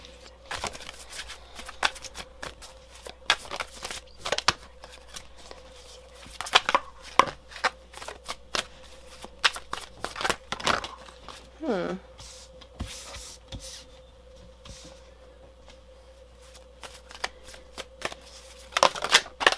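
A thick deck of tarot cards with sturdy cardstock being shuffled, giving repeated close riffling and flicking bursts across the stretch, with a person talking intermittently over it.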